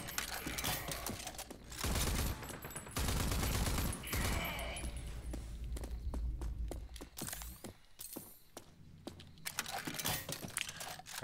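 Gunshots in the video game Rage 2 ring out as loud bursts and sharp single cracks, alternating with mechanical reload clicks and ratcheting, close and punchy with brief lulls between volleys.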